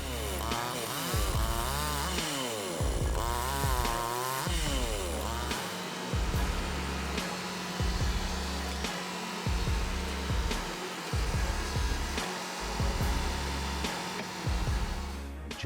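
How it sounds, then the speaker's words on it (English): A chainsaw mounted on a sliding rail cuts through wood for firewood prep, a loud, steady engine whine with repeated rising and falling revs as each cut progresses, heard close throughout. "Mounted on a sliding rail, the saw glides through wood with calm precision."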